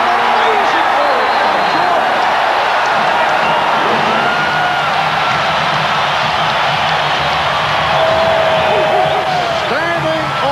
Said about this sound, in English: Standing ovation from this capacity crowd in Chicago